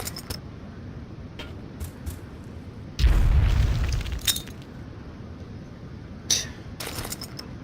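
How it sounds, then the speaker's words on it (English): A grenade explodes in the DDAY Normandy first-person shooter game, seen from high up: one deep, loud boom with a low rumble that fades over about a second, followed by a few faint crackles. "here's the grenade explosion from this high up"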